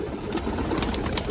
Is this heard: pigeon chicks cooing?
yes